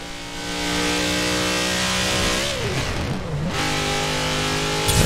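A Brabus 800 engine revs hard in Forza Horizon 4, a loud sustained drone that dips and swoops through gear changes midway before climbing back to a steady high pitch.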